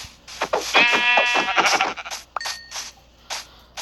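Several short Minecraft sheep bleats, loud and close, with a synthetic game-like quality, repeating in quick bursts and then trailing off.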